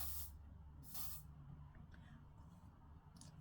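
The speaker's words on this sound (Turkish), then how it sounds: "Ve şimdi videoda püskürttü." Volume hair spray bottle with a faulty mechanism giving two short, breathy hissing spray bursts close up, followed by faint rustling in quiet surroundings.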